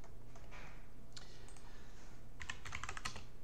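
Fingers typing terminal commands on a computer keyboard, a few soft scattered keystrokes followed by a quick run of clicky presses near the end, close and quiet with no talk.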